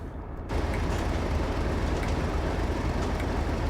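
Class 58 diesel locomotive on the Great Western Main Line in a train simulator, a steady loud rumbling rolling noise starting abruptly after a quiet half second and holding constant.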